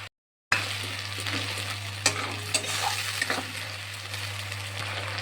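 Tomato paste hissing in hot oil with ground ginger, cumin and green chilli paste for a tilapia fish curry, a dense continuous sizzle with a few clinks of a stirring spoon, close and steady, no voices.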